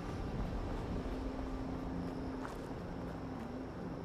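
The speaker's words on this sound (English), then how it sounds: "Can I hear a helicopter or something?" A helicopter in Fallout 76 drones somewhere in the open wasteland, a faint steady rotor hum with a sustained low engine tone under broad outdoor noise, distant and unbroken.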